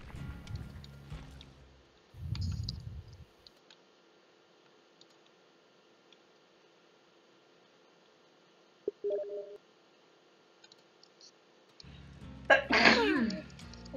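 A sudden loud sneeze bursts out near the end of otherwise quiet stretches, with brief low thumps and a short tone earlier, during a casual online game session among friends.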